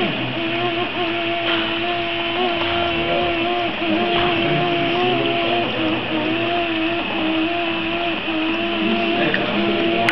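Motor running in a level-control experiment, a continuous steady mechanical hum with stable tonal lines and a dense rattling texture, constant loudness throughout without pauses.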